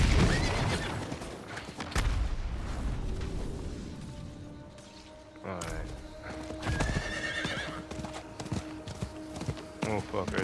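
A horse mount in the action RPG Diablo 4 whinnies and clip-clops amid game effects and occasional booms, while someone talks over much of it.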